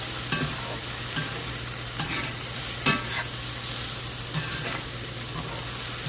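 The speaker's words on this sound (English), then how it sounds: "Give it a good mix." Cilantro and vegetables stirred in a frying pan for a meatless white bean chili: a steady low sizzle with a constant hum, broken by several scraping stir strokes about once a second, with no talk.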